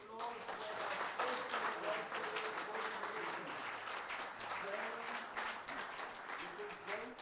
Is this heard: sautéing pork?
no